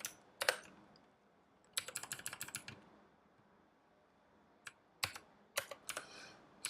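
Keystrokes on a computer keyboard, quiet and close, coming in short irregular bursts of rapid taps separated by pauses, with a few isolated single clicks.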